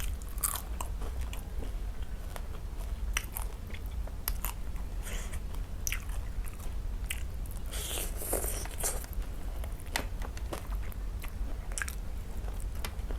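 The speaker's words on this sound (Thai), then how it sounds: "ปลาจะกรอบๆเค็มๆ" Crispy salty fish being bitten and chewed close up, with repeated crunchy bites and steady mastication over a constant low background hum, no talking.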